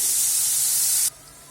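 Water hitting a hot yogurt tempering for a Kathiawadi-style spinach curry bursts into a loud, close hissing sizzle for about a second, then cuts off sharply to a quiet background.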